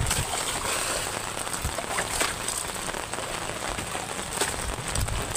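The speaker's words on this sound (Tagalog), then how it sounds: "Maulan pa sobrang lakas ng ulan." Heavy rain during a low-pressure storm near the sea, a dense continuous hiss of downpour with scattered louder drops, steady and close throughout.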